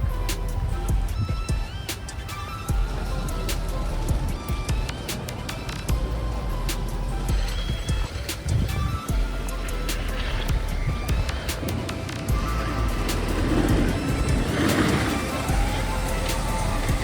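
Steady, dense wash of rain and road noise fills a moving car on a wet day in Orlando, a constant broadband hiss with occasional louder bursts throughout.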